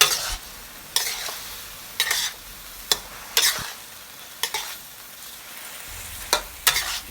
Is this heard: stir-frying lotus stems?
yes